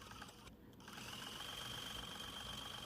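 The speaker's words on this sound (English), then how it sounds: "I believe this is the first time we're doing the blanket stitch for this quilt." A sewing machine works a blanket stitch applique on a quilt, a quiet, steady whirring hum with a faint rapid needle rhythm after a brief pause near the start.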